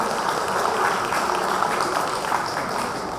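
Sustained audience applause at an alumni award ceremony of an engineering institute, a steady dense wash of clapping from a large crowd throughout.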